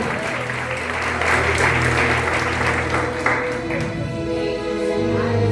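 A church congregation applauds during a family worship service: loud, dense, sustained clapping from a full room fills the whole stretch, with faint steady instrumental tones sounding underneath.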